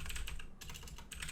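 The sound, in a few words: typing on a computer keyboard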